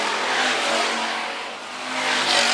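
Hobby stock race cars at Phillips County Raceway roar past in a steady, dense wall of engine noise. The pitch swells and dips slightly as the cars circle, and no voices are heard.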